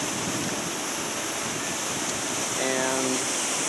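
Water pours through four open pipes at a dam that has been drawn down, a loud, constant broadband roar that fills the whole space, with a brief faint tonal sound rising over it near the end.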